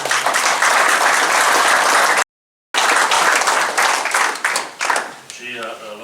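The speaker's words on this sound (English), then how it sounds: "think it deserves a round of applause" Audience applause at a book launch, a dense steady burst of clapping from a crowd that thins and fades out toward the end as a voice begins to speak.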